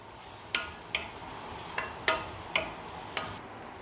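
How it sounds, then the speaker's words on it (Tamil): Onions, garlic and curry leaves sauté in a pan, a steady sizzle with about six sharp scrapes of a spoon against the pan spaced through it, close and moderately loud, no voices. "கறிவேப்பிலை இலைகள் நல்லா இதெல்லாம் வதக்கணும். இந்த வெங்காயம் நிறம் மாறணும்."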